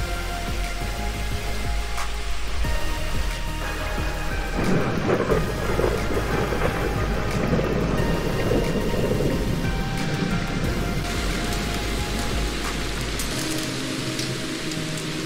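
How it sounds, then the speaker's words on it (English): Heavy rain pours steadily in the game Red Dead Redemption 2, with rolling thunder rumbling through the middle and again near the end, heard close up inside a cave by a fire, with no voices. "staying warm by the fire in a cave during a heavy rainstorm, RDR2 ASMR"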